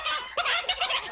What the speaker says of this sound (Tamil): முரட்டு கோழியா இருக்கியே